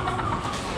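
Long-tailed chickens kept in an air-conditioned room give a brief, close, fairly loud cluck lasting under a second.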